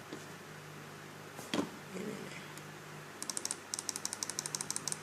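Faint room noise with a brief thump, then a run of quick, crisp computer mouse clicks in close double-click pairs and clusters.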